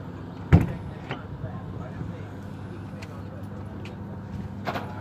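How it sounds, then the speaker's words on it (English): A bus emergency door being opened and closed gives a sharp metallic clunk early on, then lighter latch clicks and a final rattle, close and moderately loud under a voice during a vehicle inspection. "My emergency door itself opens and closes freely."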